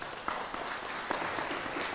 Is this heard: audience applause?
yes